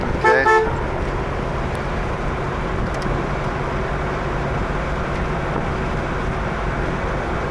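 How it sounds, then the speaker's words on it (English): Horn of a 1966 Chevrolet Corvair Corsa with turbo, one short loud toot at the start, followed by a steady low engine idle rumble. "And the horn works. Give him a little toot there, Don."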